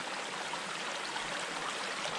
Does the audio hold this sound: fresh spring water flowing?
yes